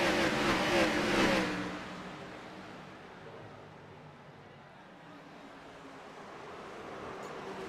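Race cars roaring around the oval at World Wide Technology Raceway in an iRacing Xfinity Series race, a loud pack of engines sweeping past at first and then fading to a distant drone, with a voice talking over it.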